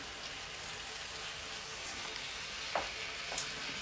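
Leaf coriander is stirred into pork curry with coconut in a hot pan, with a steady, dense sizzle and a couple of brief scraping stirs near the end.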